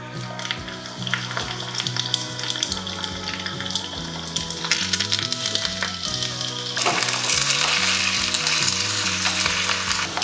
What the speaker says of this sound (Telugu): కొంచెం ఆయిల్, కొంచెం ఆవాలు, జీలకర్ర, కొన్ని ఎండుమిర్చి, వెల్లుల్లి. పప్పులోకి వెల్లుల్లి తాలింపు అద్భుత.